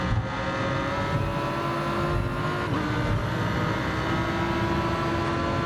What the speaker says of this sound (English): That sounded like it was even lagging with the noise of the engine.